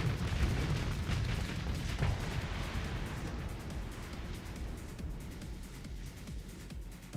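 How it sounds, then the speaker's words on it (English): Heavy torpedo impacts in the space combat game Starsector, with deep booming blasts and rumbling explosions that are loud at first and then fade into a sustained low roar. "Oh, those torpedoes, they hit hard."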